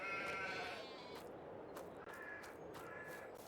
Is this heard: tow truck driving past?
no